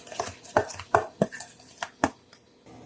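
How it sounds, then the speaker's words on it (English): A spoon clinks repeatedly against containers while stirring a homemade natural deodorant mixture, about eight quick, close, irregular taps with no talking. "Just going to give these a little stir"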